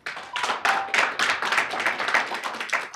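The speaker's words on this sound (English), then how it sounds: "we don't do clapping in City Hall, please" Audience at a city council committee meeting clapping, a burst of dense hand claps that starts abruptly, holds fairly loud in a roomy hall, and tapers slightly toward the end.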